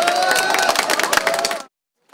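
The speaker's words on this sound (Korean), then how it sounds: "누군가는 박수를 치고" Crowd of people clapping and cheering at the moment a presidential removal verdict is announced, a dense burst of scattered claps for about a second and a half before cutting to silence.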